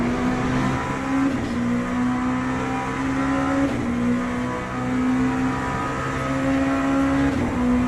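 Oracle 07 LMP2 prototype race car engine in Le Mans Ultimate: a steady, loud, high-pitched drone held at near-constant revs with slight dips, heard alone without talk.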